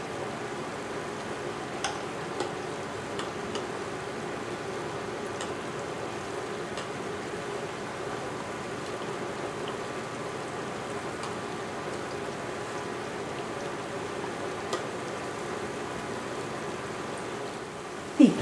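Plantain slices sizzling in oil in a skillet, a steady soft crackle and fine spatter like light rain, even and continuous throughout, with a brief louder knock at the very end.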